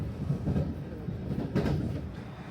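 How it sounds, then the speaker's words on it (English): A local train bound for Kii-Tanabe pulls away from Kii-Arita Station, a low rumbling roll with soft rhythmic clatter of wheels on rails, steady and moderately close. "this is the train to Kii-Tanabe, just leaving"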